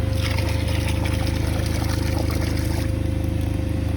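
Water runs into a tank on a detailing rig as a steady, close rushing and trickling flow that holds a constant level, with a low mechanical hum underneath.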